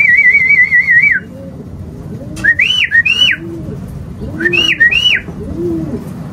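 Pigeons kept as pet birds give whistled calls, a sustained warbling tone then two rising-falling bursts, near and loud over low rumbling background noise.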